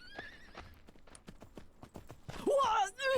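A horse's hooves clip-clop in the video game Myth of Empires, a brisk run of hoofbeats followed by a loud, close whinny at the end.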